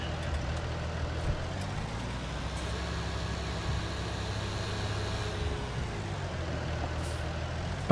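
A truck idles with a steady low engine drone in Farming Simulator 19, and its air brakes let out a brief, sharp hiss near the end, with no voices heard.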